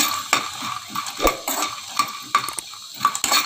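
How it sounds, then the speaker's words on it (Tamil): Pistachios roasting in a pan while being stirred, with repeated scraping and rattling of nuts against the metal and a faint dry sizzle, close and clear with no speech. "பாருங்கள், பிஸ்தா வந்து நல்லா வறுத்தாச்சு."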